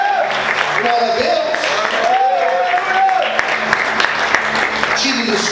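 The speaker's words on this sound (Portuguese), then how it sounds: "Você pode aplaudir e exaltar a Deus nessa manhã" A church congregation claps through a morning worship service, a steady wash of applause running the whole time beneath a voice that keeps speaking over it.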